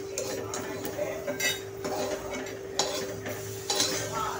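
A spoon scrapes and clinks against a pan while roasted coconut and garam masala are scooped out, a soft sizzle running underneath and a steady hum in the background.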